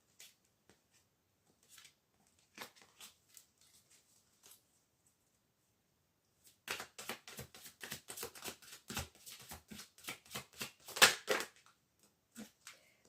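Tarot cards are shuffled close up for a psychic reading: a few scattered soft card taps at first, then a quieter-than-talk burst of rapid riffling clicks lasting several seconds.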